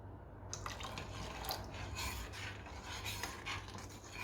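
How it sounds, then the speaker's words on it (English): Bicarb soda dissolved in water is poured into a butter mixture for ANZAC biscuits, a faint close trickle and wet scraping, steady and quiet with a low hum beneath, no voices. "Now we're going to add that to the butter mixture"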